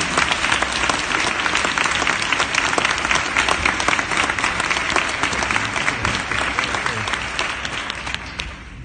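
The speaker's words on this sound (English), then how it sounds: "Give them a round of applause" Steady, dense audience applause after a school band concert song, loud and continuous with no talk, tapering slightly near the end.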